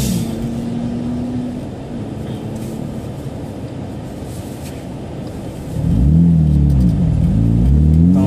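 A Lexus IS200 on the Clastres race circuit, its engine droning steadily and then revving loudly up and down through the gears as it picks up speed nearby.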